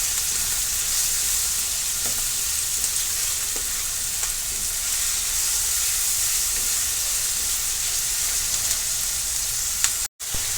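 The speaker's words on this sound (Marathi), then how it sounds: "कांदा व्यवस्थित परतून घेणार आहोत लालसर होईपर्यंत." Chopped onions fry in a pan for bheja fry, a steady, loud sizzle with soft stirring scrapes throughout and a momentary break near the end.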